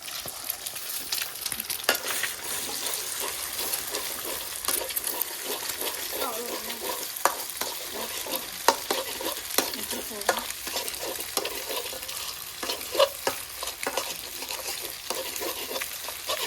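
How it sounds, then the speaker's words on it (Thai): Eggs sizzle and fry in a pot for Lao egg fried rice, a steady close crackle with scraping and stirring throughout, and a voice talks faintly at times. "ตีไข่ทอดไข่ตีไข่ตอกลงหม้อ"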